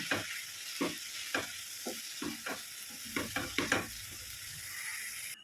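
Potato and long beans being stirred into ground masala in a pan give a run of irregular scraping, clattering stirs over a soft steady sizzle, close and moderately loud, with no voices.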